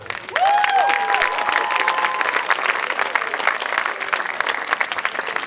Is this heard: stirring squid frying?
no